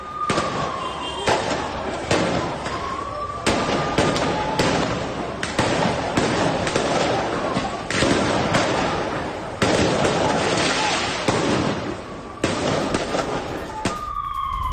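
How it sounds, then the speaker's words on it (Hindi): Repeated loud blasts and booms during bombing at Shuafat refugee camp near Jerusalem, with sirens wailing over a continuous roar of explosions throughout. "शुआफात शरणार्थी कैंप में बमबारी"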